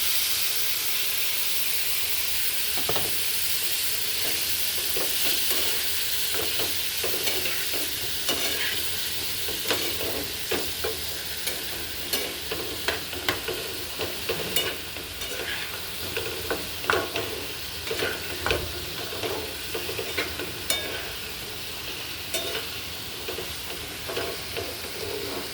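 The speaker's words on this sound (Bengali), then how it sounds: "এবারে গোলা মশলাটা দিয়ে দিচ্ছি।" Spice paste frying in a pan with mixed vegetables and fresh ginger, stirred steadily: a continuous close sizzle and hiss broken by repeated scraping clicks and knocks of the spoon, with no voices.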